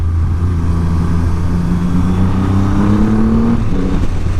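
Triumph Rocket 3 2500cc motorcycle (2020) accelerating, a loud, close engine drone rising steadily in pitch as the throttle opens, with constant wind rush.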